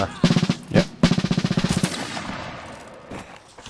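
Musket volleys in a Mount & Blade Napoleonic Wars line battle: a few loud, close shots, then a rapid ragged run of about a dozen overlapping reports, then a lingering rumble with scattered distant shots.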